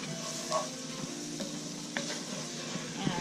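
Flour and liquid cooked into a roux in a pan for broccoli cheese soup: a continuous soft sizzle with occasional scrapes and knocks of a spoon stirring close by, no talking.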